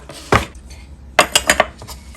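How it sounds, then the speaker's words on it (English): A knife chops rosemary leaves on a cutting board: one crisp close thunk, a pause, then four quick rhythmic chops, with no talking. "we're just gonna get in there and chop those rosemary leaves on up"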